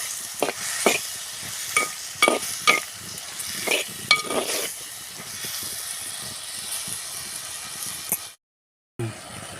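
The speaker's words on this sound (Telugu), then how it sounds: "ఇలా మట్టి పాత్రలో టమాటా ఎగ్ కర్రీ వండుతున్నాం" Tomato egg curry cooking in a clay pot, with a run of sharp scraping stirs in the first half over a gentle simmering sizzle, then a brief cut to silence near the end.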